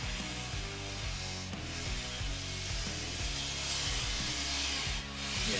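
A soft sponge rasps harshly around a Simmons bicycle rim in steady repeated back-and-forth strokes, close and continuous, with no talk.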